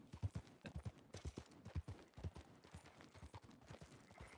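A horse gallops in the video game Red Dead Redemption. Rapid, uneven hoofbeats patter along at a moderate distance for the whole stretch, with no speech over them.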